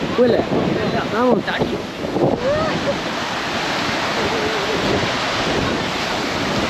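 Sea waves washing and surging nearby at Varkala beach, with wind buffeting the microphone and brief voices at the start.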